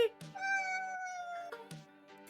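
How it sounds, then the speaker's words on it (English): A house cat meows in a long drawn-out cry, followed by shorter meows, close and clear indoors with little else around. "was that Jules's cat? Doing the meows?"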